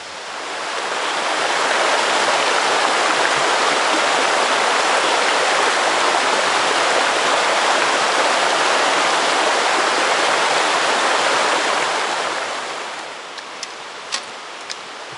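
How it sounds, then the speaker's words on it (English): A mountain stream on a Mount Washington hike, a loud steady rush of flowing water heard close, continuous for most of the stretch before easing off near the end, with no voices. "Beautiful stream out into the distance"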